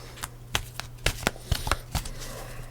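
Tarot cards being shuffled by hand, with a run of short papery riffles and slaps at an irregular rhythm, close and fairly quiet over a steady low hum.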